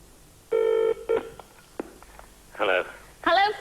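Telephone ringing out on a 1989 British TV entertainment show, with a tonal electronic ring burst followed by short clicks and then voices talking, all close and fairly loud.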